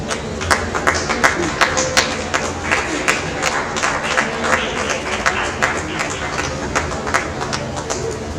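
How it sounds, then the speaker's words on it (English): An audience at a school Republic Day celebration claps steadily for about eight seconds, with sharp individual claps standing out over a lively, moderately loud crowd and some chatter. "please encourage our students with a huge round of applause."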